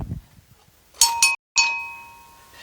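A small bell rung in Lanuejols, Lozère: two quick bright strikes, a brief silence, then a third clear ring that sustains and slowly fades, close and fairly loud.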